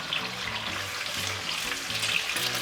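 Scrambled eggs deep fry in hot oil for pork fried rice, giving a continuous bright sizzle and crackle at close range with a low background hum and no speech.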